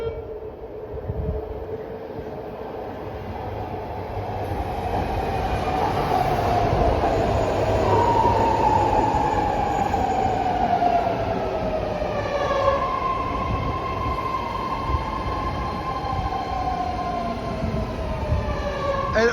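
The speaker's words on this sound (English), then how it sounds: "we got the old 6 car Berryessa train, North Legecy train, now approaching platform number 1." An old six-car BART legacy fleet train bound for Berryessa approaches a station platform, its loud rumble building steadily while a drawn-out descending whine and high squealing tones rise over the rolling noise.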